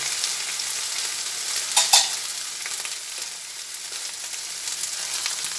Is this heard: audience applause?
no